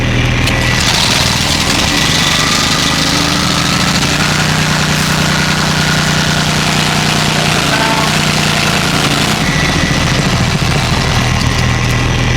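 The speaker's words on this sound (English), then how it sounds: "fire up the portable generator here, gas generator." A portable gas generator on a fire and rescue rig in Washington DC runs loud and close, a steady droning engine hum with constant vibration throughout, no one speaking.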